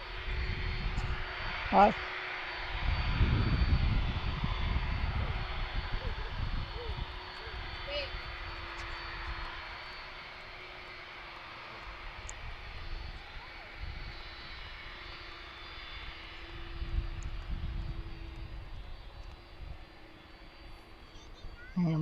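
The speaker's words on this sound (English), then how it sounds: "I'm watching the 717s heading out to the runway too." Boeing 717 jet airliners taxi out toward the runway at Allentown airport, a steady engine rumble and whine lasting throughout at moderate distance, swelling and easing slightly, with a brief spoken greeting near the start.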